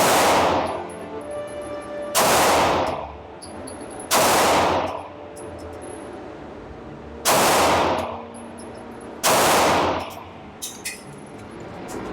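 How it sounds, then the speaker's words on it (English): Five loud pistol shots from a Stealth Arms Platypus ring out at a shooting range at uneven intervals, each a sharp crack followed by a short decaying echo and a faint metallic ring. "We're gonna shoot this left target first with the Stealth Arms Platypus"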